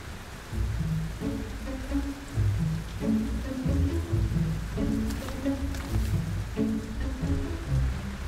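Heavy rain pours steadily over a development site in the centre of a city in Singapore. A dense hiss runs throughout, with repeated low croaking calls from banded bullfrogs rising over the downpour.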